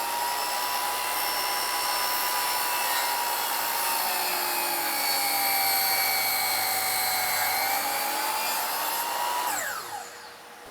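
Power saw recutting a wooden window trim apron, a steady high whine holding for about nine seconds before winding down at the end, close and alone.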